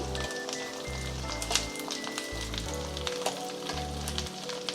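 Garlic and spring onions frying in a pan for garlic rice, a steady close sizzle with crackling pops throughout and a faint tone in the background.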